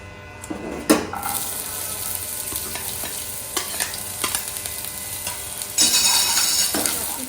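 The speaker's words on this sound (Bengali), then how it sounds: "এখানে পেঁয়াজ, রসুন কুচি আর লঙ্কা কুচিটা ভেজে দিয়েছি" Chopped onion, garlic and green chilli fry in a pan and are stirred. A steady near sizzle runs throughout, with sharp scrapes and clinks of a utensil against the pan. A louder burst of sizzling comes near the end.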